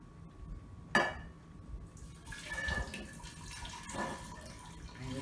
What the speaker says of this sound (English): I'm just going to pour this into the jar.